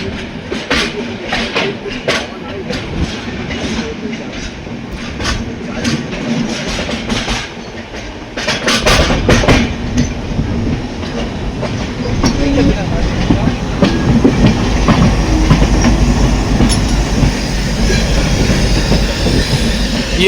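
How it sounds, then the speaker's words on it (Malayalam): A passenger express train pulls into Jammu Tawi railway station, with loud rumbling, clickety-clack wheel rhythm and squealing wheels that grow heavier midway, all close and continuous. "ട്രെയിൻ ജമ്മു താവി റെയിൽവേ സ്റ്റേഷനിലേക്ക് എത്തിക്കൊണ്ടിരിക്കുകയാണ്."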